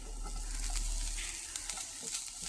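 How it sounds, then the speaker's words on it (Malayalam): Sliced onion sizzles and fries in a pan for wheat masala puttu, a soft, close, steady crackle with light stirring scrapes, no voices. "സവാള നന്നായിട്ടൊന്ന് വഴറ്റി കൊടുക്കാം."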